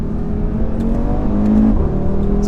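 A car engine revs hard with a throaty exhaust note, rising and falling steadily and loudly throughout, close by with no other sounds.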